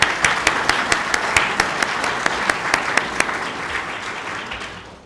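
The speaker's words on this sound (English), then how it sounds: "Let's all give them a warm round of applause." An audience at a nonprofit leadership award ceremony applauds warmly, a dense wash of clapping with sharp individual claps standing out, loud and sustained before gradually thinning out.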